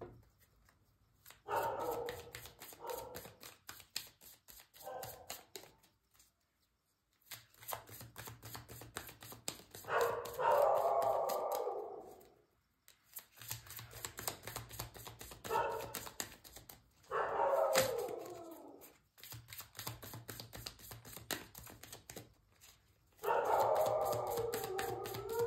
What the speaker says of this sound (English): Really sorry about the dogs.